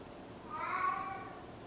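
A house cat meows once, a single drawn-out, moderately faint call rising out of a quiet room.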